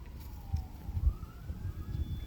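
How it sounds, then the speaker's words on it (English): A faint siren wails in the distance, its tone slowly rising and falling over a low rumbling background of traffic or wind. "I don't know if you hear the sirens"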